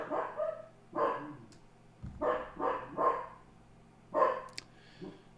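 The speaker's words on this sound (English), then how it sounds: "I don't know what's up with that dog. He's just barking like crazy today." A dog barks repeatedly in uneven bursts, several sharp barks close by with brief pauses between them, no talking.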